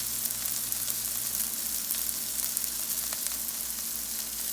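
A chili burger patty fries in a pan with a steady, close, loud sizzle and light crackle throughout, and no one talks.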